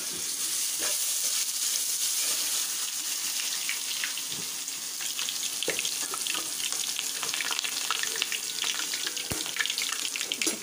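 Fenugreek seeds and ginger-garlic paste frying in hot oil for a tempering, a continuous loud sizzle and crackle with a few sharp pops throughout.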